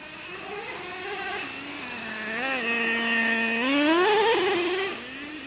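A Traxxas Revo 3.3 nitro RC truck's small engine screams and revs, its pitch climbing, dropping as it shifts into second gear, then rising again, loud and buzzing throughout.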